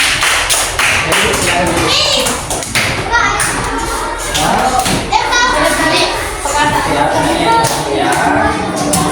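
Primary school pupils in an Indonesian social-studies lesson clap their hands in short rounds of one and two claps, sharp taps and thumps scattered among children's chatter and a teacher talking.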